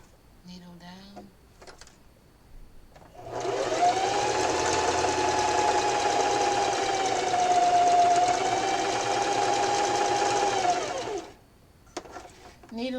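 A sewing machine stitches a Valentine pillow in one sustained, loud run of steady motor whir lasting several seconds, with brief talking before and after it.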